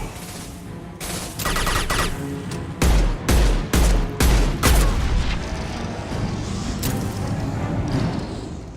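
Gunfire and heavy booming shots ring out in the sci-fi video game Mass Effect during a fight against the Collectors, with a run of loud, evenly spaced thumping blasts mid-clip over a continuous rumble of combat noise.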